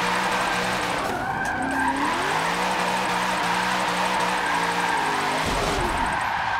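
Tires skid and squeal as a car drifts in Forza Motorsport 7, with a loud engine revving and wavering in pitch through the slide before the screech cuts off near the end.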